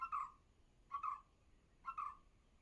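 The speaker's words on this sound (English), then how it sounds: "The birds are chirping." Three short, bright bird calls repeat at even intervals about a second apart, fairly close and outdoors, each a quick chirp with a faint harmonic above it, over a quiet background with no talk.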